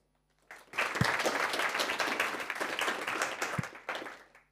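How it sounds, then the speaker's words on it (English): Audience applause at a Nix conference talk, NixCon 2024, rising quickly into a dense, steady roomful of clapping that holds for a few seconds before tapering off, with no talk over it. "Let's give Raffo a warm, welcoming round of applause."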